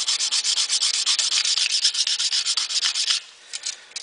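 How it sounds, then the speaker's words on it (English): Sandpaper is worked by hand over dented stainless steel trim in fast, rhythmic back-and-forth rasping strokes, close and loud, then slows to a few softer rubs at the end. "that area has been sanded pretty much smooth"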